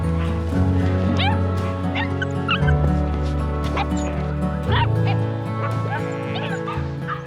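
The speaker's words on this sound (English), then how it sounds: "I greet the little puppies that will one day be very big. It is the well-known Kangal breed." Kangal breed puppies yip and yelp repeatedly outdoors over a loud, steady background hum, with short high calls scattered throughout.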